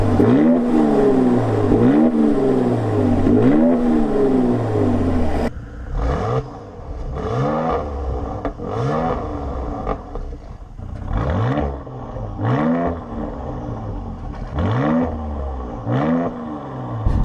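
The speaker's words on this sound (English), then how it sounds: "So we're going to put the exhaust on, which makes a big difference." A Mercedes C43 engine revs repeatedly with the sport exhaust opened, each loud blip rising and falling in a steady rhythm, the exhaust note turning sharper and more crackly partway through.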